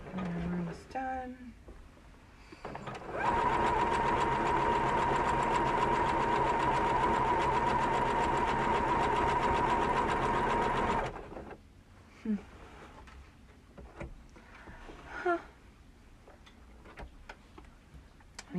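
A sewing machine runs a zigzag stitch in one steady, fast whirring burst of about eight seconds, with rapid mechanical ticking. Before and after it come handling clicks and a person talking.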